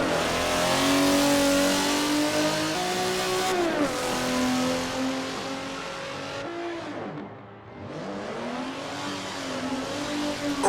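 A Ferrari drift car slides through turns at the Yas Marina circuit: a loud engine revs and drones with rising and falling pitch, dipping briefly as it lifts off, then climbing again as another pass follows.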